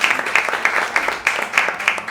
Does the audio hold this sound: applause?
yes